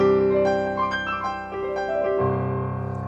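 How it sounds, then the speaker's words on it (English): A Nord Stage 4 Bright Grand piano patch, sampled from a Yamaha S4 Studio Grand, plays a bright run of close, clear notes and chords, ending on a sustained ringing chord. "you'll see it's actually a Yamaha S4 Studio Grand sound"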